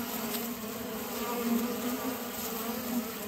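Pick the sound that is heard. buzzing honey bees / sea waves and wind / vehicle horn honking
buzzing honey bees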